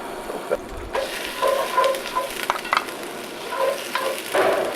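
Butter sizzles and crackles in a hot Dutch oven pot, a light, irregular frying hiss with scattered pops and soft scraping stirs, moderately close and without any voices.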